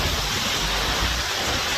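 A waterfall rushes nearby as someone sits on a rock beside it in the wind, a steady, broad roar of falling water without any voices.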